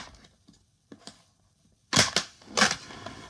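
Styrofoam packaging from a statue unboxing gives a few faint creaks and taps, then two loud, close squeaky crunches as the foam is pulled apart, with no talking.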